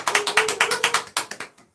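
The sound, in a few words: audience applause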